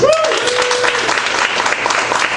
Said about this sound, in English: a round of applause from those of you who have been to one of these before